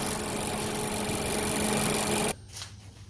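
A 2016 Mazda CX-9 Signature runs with its cooling fan on, a loud, steady whirring drone that cuts off abruptly after about two seconds. A few faint knocks and rustles follow.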